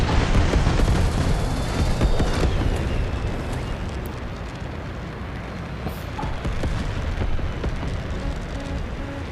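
Missiles launch in an aerial combat video game with an F-15, a dense, roaring wash of blasts and rumbling engine noise that stays loud and continuous throughout.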